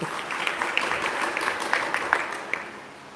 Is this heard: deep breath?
no